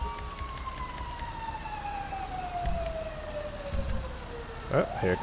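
A fire engine siren sounds in the GTA 5 firefighter mod as the engine arrives at a brush fire in Paleto Bay, a long descending wail heard steadily under game noise and a few brief other sounds.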